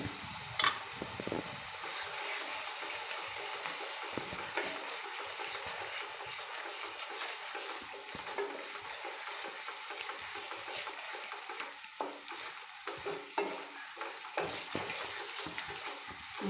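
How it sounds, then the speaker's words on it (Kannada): Ginger garlic paste sizzles in hot oil for an egg capsicum curry. It makes a steady, bright frying hiss with scattered pops and occasional stirring scrapes, heard alone without talk. "ನಾನೀಗ ಎಣ್ಣೆಯಲ್ಲಿ ಶುಂಠಿ ಬೆಳ್ಳುಳ್ಳಿ ಪೇಸ್ಟ್ ಹಾಕಬೇಕಾಗಿತ್ತು"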